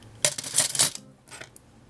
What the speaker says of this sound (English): Your glove, you can cut your yarn.